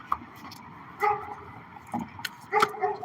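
A dog lets out several short, sharp barks and yips at irregular intervals against a quiet indoor background, fairly close but not loud.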